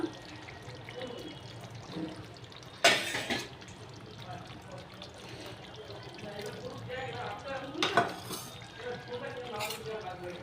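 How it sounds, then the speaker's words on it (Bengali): A ladle stirs chicken curry with ghee and ground garam masala in a pan, producing soft, quiet scraping and sizzling with a couple of sharper scrapes against the metal. "এবার আমি মাংসটা একটু নাড়া দিয়ে নিচ্ছি।"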